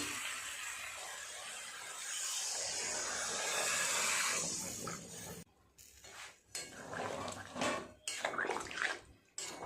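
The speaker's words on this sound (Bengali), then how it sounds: "আরও অল্প একটু জল দিতে হবে" Water is poured into a soybean and potato curry as it cooks, a steady broadband splash and hiss over the first five seconds, then broken clatter of utensil and pot sounds.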